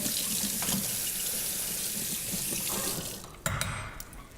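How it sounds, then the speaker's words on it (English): A spatula is rinsed under a running kitchen tap while making buttermilk pancakes: a steady loud gush of water, then the flow cuts off near the end with a couple of clinks. "I'm going to clean off that spatula a little bit"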